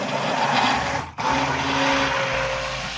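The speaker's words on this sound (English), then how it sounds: "I put my immersion blender in there. We'll get this blended up." An immersion blender whirs steadily at close range mixing hot process soap, cutting out briefly for an instant before resuming its continuous motor hum.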